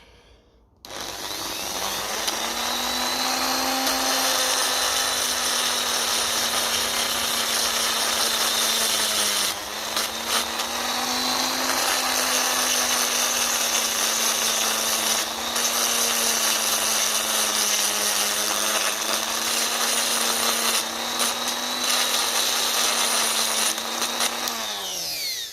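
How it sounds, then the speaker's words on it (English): A Dremel rotary tool runs steadily and loudly for about 25 seconds while working on a 1957 Ferguson FE35 TVO tractor, giving a continuous high whine with slight pitch dips and no talking. "Dremel."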